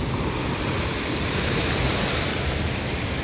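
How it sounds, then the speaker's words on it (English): Ocean waves washing onto a summer beach, a dense, steady roar of surf filling the space, loud and continuous with no voices. "The ocean sound, the water, the movement."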